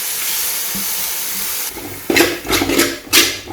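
Finely chopped onions hit hot oil in a pan while cooking rajma masala, a steady loud sizzling hiss giving way to sharper crackling and scraping as they are stirred.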